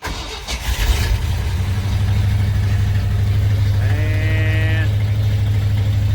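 A 1978 Ford F-250 engine cranks and fires, then settles into a steady, loud low idle that runs through the rest of the clip, with a brief rising whine partway through and a single spoken word at the start.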